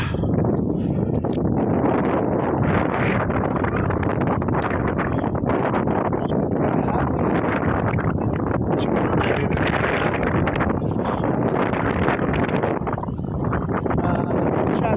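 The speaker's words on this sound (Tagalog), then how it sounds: "Dito kasi ang hangin mga kabayani, sobra hangin diba?" Strong gusting wind during a sandstorm on the Libyan coast roars steadily and loudly into the microphone for the whole stretch, buffeting and rumbling with rustling noise throughout and no break.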